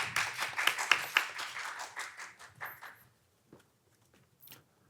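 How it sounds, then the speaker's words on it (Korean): Audience clapping to welcome a presenter at a public-sector HRD contest, a lively burst that thins to scattered claps and fades out after a few seconds, leaving near silence with a couple of faint taps. "큰 박수로 맞이해 주시기 바랍니다."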